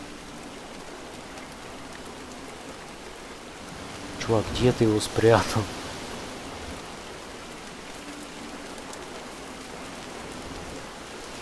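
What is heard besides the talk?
rain falling in video game Montague's Mount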